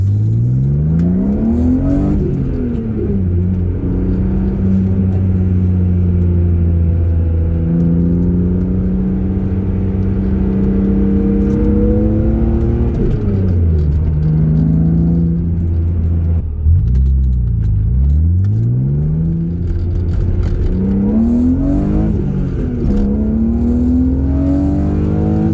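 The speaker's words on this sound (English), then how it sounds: "I just did the pull pretty well to red line." A high-mileage BMW M3 engine pulls hard toward red line, its rising tone climbing, dropping at shifts and climbing again, loud and close inside the car with no talk.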